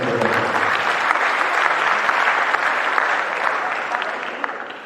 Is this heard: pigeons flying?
no